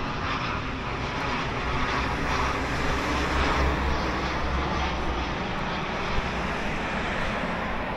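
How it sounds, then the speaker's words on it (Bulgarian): An airplane passes overhead near the Chavdar bridge on a cold day, a steady engine drone that swells gently toward the middle and then holds at moderate volume, with no voices. "Самолет ли идва?"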